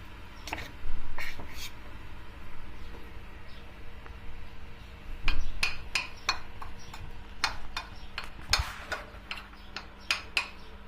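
Spoon stirring sugar in a metal pot on the stove while making Kars kete pastry, a run of light scraping clinks and taps, irregular and close, with faint kitchen background.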